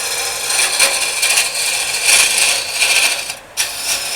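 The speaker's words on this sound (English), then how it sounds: "most of the time you use a gouge for this. This thing will hog away from the wood." A gouge cuts into mesquite wood spinning on a lathe, giving a loud, continuous rough scraping that swells and eases in waves before a brief pause near the end, with no talking.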